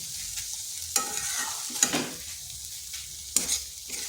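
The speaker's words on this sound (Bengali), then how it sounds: "এটাকে লো আঁচে রেখে বেশ কিছুক্ষণ সময় ধরে ভেজে নিতে হবে, মানে কষা কষা করে নিতে হবে।" Bitter gourd fries on low heat in a pan, a quiet sizzle punctuated by several sharp scraping strokes of a spatula as it is stirred, close and with no voices.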